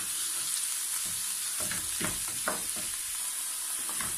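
Seasoned beef filling for briouates fries gently in a pan, a steady close sizzle with scattered soft scraping stirs, no voices.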